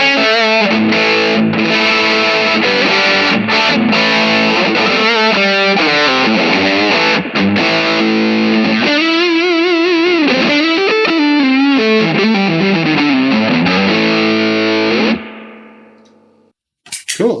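A heavily distorted electric guitar, a Munson boutique guitar with the gain turned up, plays a loud, continuous run of chords and bending lead notes, saturated and sustained, then cuts off near the end.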